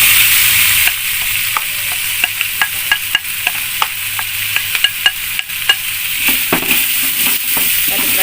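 Potatoes and carrots fry in a pan under a steady sizzle, punctuated by a run of sharp utensil clacks and scrapes as they are stirred, close and clear.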